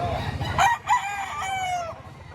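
A straight-comb gamefowl rooster crows once, loud and close, in a busy gamefowl auction market in Lipa, with other birds and crowd murmur around it.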